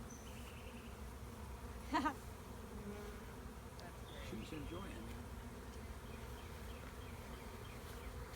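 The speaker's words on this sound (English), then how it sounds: "Now it's a bee beard." Honeybees swarm over a person's face and chin to form a bee beard outdoors, giving a steady low buzzing drone throughout, with a brief louder burst near the start and quiet talk mixed in.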